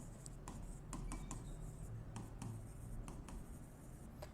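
Pen strokes scratching on paper while capital is written into a balance sheet, a quick run of short scratchy marks with brief pauses, steady and close, over a low background hum.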